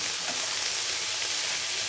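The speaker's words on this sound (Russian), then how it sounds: "Теперь добавляем перец." Vegetables with added pepper frying in a pan for lenten rassolnik soup, giving a soft, steady sizzle and hiss throughout with no speech.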